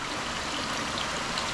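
Water from several aquarium filters runs down and overflows into a flow-through acrylic fish tank, making a steady rushing trickle like a small stream. It sounds close and continuous for the whole brief moment, with no voices.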